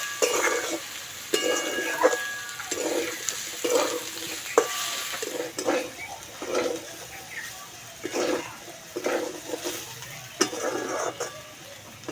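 Food fries in a pan while potato pulao is cooked, producing a continuous hiss broken by repeated rhythmic stirring scrapes and soft clatters, close and fairly loud.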